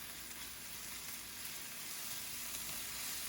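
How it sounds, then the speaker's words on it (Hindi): Ginger and crushed garlic sizzle steadily in a frying pan of softened onion for a pav bhaji, a dense continuous hiss with no voices over it. "अब इसमें अदरक और पिसा हुआ लहसुन भी डाल दें।"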